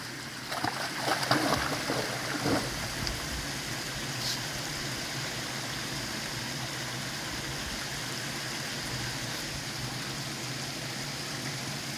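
Steady broadband rush of flowing creek water, continuous and fairly close, with a few brief splashy bursts near the start.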